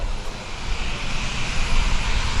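An F-22 Raptor jet fighter flies at the 2015 New York Airshow, a loud, steady broadband engine roar filling the air with no talk over it.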